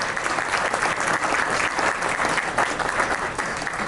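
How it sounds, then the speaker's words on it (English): Banquet audience applauding steadily at an annual physicians' association dinner, a dense, continuous clatter of many hands at fairly close range with no pauses throughout. "let's give them a round of applause"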